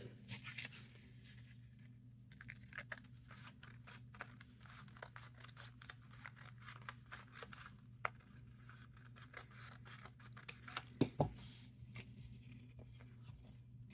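Scissors snip and trim paper for a junk journal, a run of quick crisp cuts close up with short pauses between bursts, over a faint steady indoor hum.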